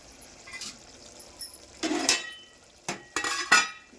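A spoon clinks and scrapes against a cooking pot as village-style chicken curry is stirred, with several separate bursts of metal scraping and clattering between quiet gaps, close and moderately loud.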